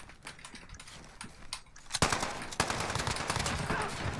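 Uzi submachine gun in the video game Modern Warfare, Search and Destroy mode, starts with scattered soft clicks and then erupts into a loud, sustained rapid burst of fire close by, with no talking.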